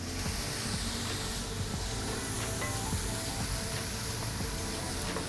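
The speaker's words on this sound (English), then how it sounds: "right after that, I'm gonna add my minced garlic." Minced garlic sautéing in a pan with onions and celery gives a steady, close sizzle and hiss that runs unbroken throughout, with no talking.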